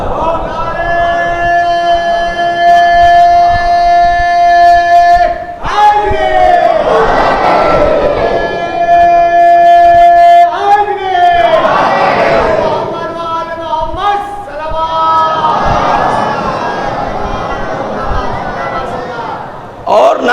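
A large gathering at a Shia majlis chants the Nara-e-Haidari slogan loudly in unison, with rising collective shouts answering a leader's call, repeated several times in a reverberant hall.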